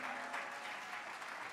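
A brief stretch of steady clapping from an audience at the MTN Rwandacell stock exchange listing event, dense and continuous at a moderate distance.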